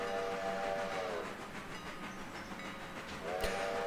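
A freight train in the Railroader video game rolls along with a steady rumbling run, its whistle sounding near the start and again toward the end over the continuous rail noise.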